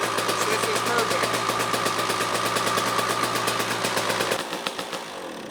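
A racing motorbike engine runs steadily at a near, loud level with a fast, even pulsing roar, then cuts out near the end and leaves a brief fading rumble.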